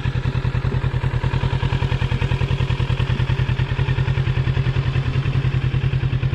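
A 2021 Kawasaki Ninja 650 on its stock exhaust runs at a steady idle, a close, quiet, rhythmic low-pitched thrum with light mechanical clatter.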